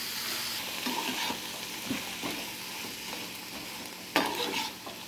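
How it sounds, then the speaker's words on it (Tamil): Steady sizzling of turkey berries sautéing in a pan, with soft scraping and stirring sounds and a sharper clatter near the end. "நீங்கள் சுண்டக்காவை போட்டு சுண்டக்காவையும் வணக்குங்க"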